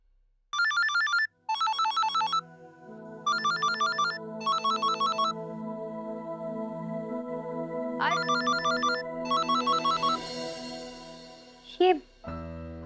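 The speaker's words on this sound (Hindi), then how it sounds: "आरव के डायबिटीज डॉक्टर का फोन अब इस वक्त?" An electronic telephone ringtone sounds in a Hindi TV drama scene, coming in loud, repeated warbling bursts: four bursts early on, then more later, over sustained musical tones and a final sharp hit.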